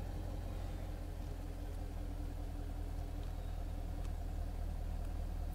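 A Chevrolet Camaro SS engine idles steadily with a deep, low rumble from the exhaust pipe, constant and unbroken throughout, heard up close at the rear with no talking.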